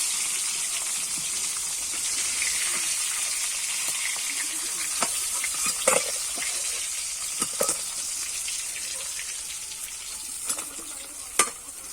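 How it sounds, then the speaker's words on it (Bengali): Fish heads frying in oil until reddish, a constant bright sizzle with scattered sharp pops and spatula taps, close by and without talk. "এরকম এরকম লাল লাল করেই কিন্তু মাথাগুলো ভেজে নিতে হবে"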